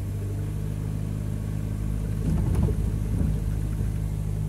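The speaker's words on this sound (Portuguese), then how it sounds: "Ó, o carro tremendo." An automatic Ford Del Rey with a broken transmission sits in reverse gear and shakes, giving a steady low engine rumble that swells briefly in the middle, with no talk.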